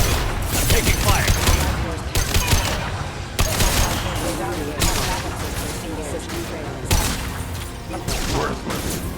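Mass Effect 2 gameplay combat with loud, close bursts of rapid gunfire repeating over several seconds, with voices calling out between the volleys.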